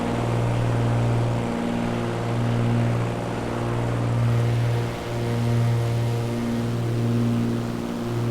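A light aircraft engine in a flight simulator heard from outside during a VFR flight, a steady loud propeller drone with slowly rising and falling throttle tones throughout.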